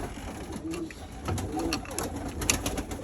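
Pigeons coo softly and repeatedly inside a coop, several low rolling calls overlapping in a steady rhythm, close by, with faint rustling in the background and no talking.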